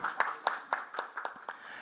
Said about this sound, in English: let's give her a bigger round of applause